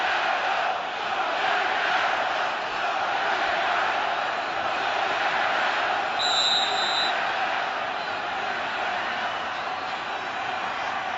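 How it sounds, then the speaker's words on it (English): Sustained roar of a football stadium crowd at an NFL game between the Detroit Lions and Green Bay Packers, a broad and fairly even wash of cheering with a brief shrill whistle-like tone partway through, and a commentator talking over it. "Well, the crowd trying to get back into it, deliver a little energy."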